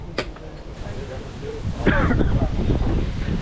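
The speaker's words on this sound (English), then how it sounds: "It is getting really windy." Strong wind in Bulgaria buffets the microphone in a steady low roar, gusting harder partway through.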